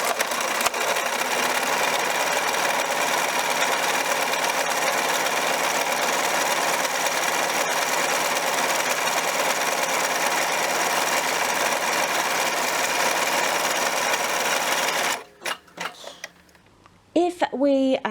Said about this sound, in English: We're just going to follow the same line of stitching down on the outside as we did when we started off the top of the dress